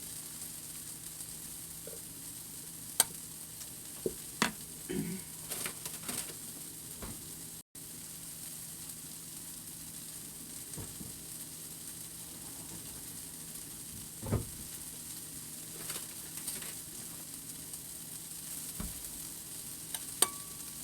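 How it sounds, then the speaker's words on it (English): Leafy greens wilt in a pan before eggs go in to scramble, giving a faint, steady low sizzle with occasional soft clicks and stirring scrapes, quiet and alone. "let me wilt my greens a little bit, and then we'll just throw in the eggs and scramble them a little bit"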